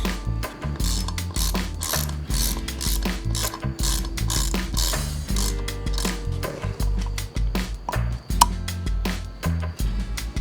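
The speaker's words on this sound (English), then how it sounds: "So now I'm about to go get my torque wrench, and so we got to tighten these torques down to between 16 and 24 foot-pounds." A torque wrench ratchets steadily while tightening bolts to 16 to 24 foot-pounds, giving close, loud, rhythmic clicking strokes throughout with short pauses between pulls.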